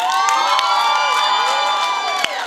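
A rock festival crowd cheers, whoops and shouts for the band, a loud continuous roar of many voices with one sharp clap or bang near the end.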